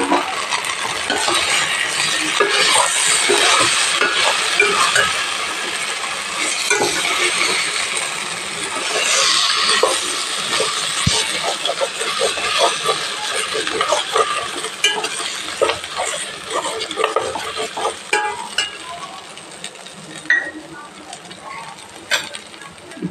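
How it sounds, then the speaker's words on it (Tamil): Cauliflower frying in a hot pan for gobi manchurian, a loud continuous hissing sizzle with scattered clinks and stirring scrapes throughout. "இப்போ நம்ம காலிஃப்ளவர்ஸெல்லாம் போட்டுடலாம்."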